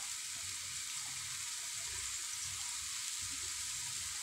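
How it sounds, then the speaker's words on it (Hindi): Mutton gola kebabs fry in oil with a faint, even sizzle and soft crackling that runs continuously, with no voices. "और अब इसको फ्राई प्रोसेस जो है वो स्टार्ट हो चुका है"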